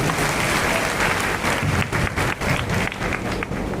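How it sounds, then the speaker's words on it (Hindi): A large crowd at a political rally in a grain market ground claps in a loud, continuous burst, dense and steady throughout. "एक बार ताली बजा के हमारी टीम का हौसला बढ़ा।"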